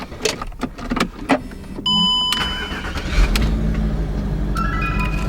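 A Range Rover L322 ignition is turned with the key: a few clicks and short electronic chime tones, then the engine starts and settles into a steady, close idle.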